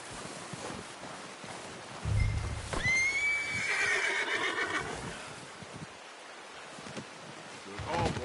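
A horse in Red Dead Redemption 2 gives a loud, rising whinny, preceded by a low snort and hoof thud, with faint wind and rustling around it and a few quiet voice fragments.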